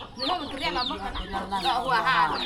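Chickens raised on a rural Thai farm project cluck and chatter close by, several birds calling in overlapping bursts throughout, with a voice talking underneath.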